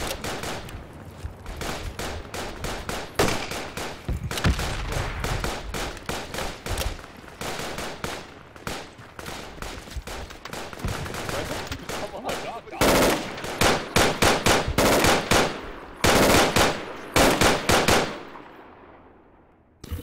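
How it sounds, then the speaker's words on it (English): Rapid bursts of machine gun and rifle fire in a Project Reality battle, dense crackling volleys near and far over twenty seconds, some louder close shots, fading out at the end, with occasional voices underneath. "Shots."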